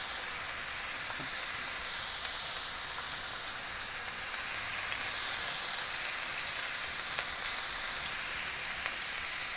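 Shrimp sizzling on a grill, a continuous even hiss and crackle holding steady throughout with no voices.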